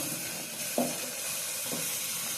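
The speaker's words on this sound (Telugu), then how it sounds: "ఇప్పుడు ఈ మసాలా అంతా బాగా ఫ్రై అవ్వాలండి" Masala frying in oil in a pan for a bottle gourd gravy, a steady soft sizzle throughout with two brief louder stirring scrapes, no talking.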